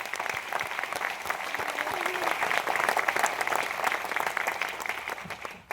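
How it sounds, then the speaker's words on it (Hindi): Applause rolls from a large audience at a speech event in Kolhapur, a dense, steady clapping that holds loud and even for several seconds before cutting off. "एक जोरदार तालियों में सबके लिए।"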